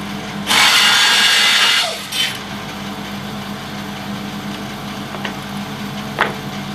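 A power tool saws through wood guided by a template for making laminates, giving one loud, near, harsh cut of just over a second, then a brief lighter scrape and a few faint knocks over a low steady hum.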